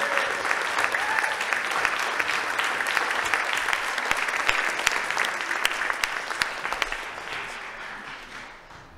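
Sustained audience applause at a Bay of Quinte wetlands town hall, dense and loud for about seven seconds before thinning out toward the end.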